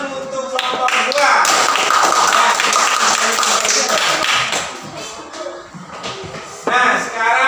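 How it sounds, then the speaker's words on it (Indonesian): A classroom of students claps together for a presenting group, a dense burst of hand claps that runs loud for several seconds, then thins and fades before a short final flurry, with voices mixed in. "sekarang kita tepuk tangan dulu untuk kelompok 2"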